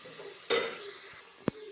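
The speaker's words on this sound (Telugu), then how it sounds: "పచ్చి బఠానీ కూడా వేసాను. ఇవైతే బాగా ఫ్రై అవ్వనివ్వాలి." Green peas tossed into hot oil for veg pulav, with a sharp sizzle bursting up and then settling into a steady low frying hiss, plus a brief knock of a utensil near the end.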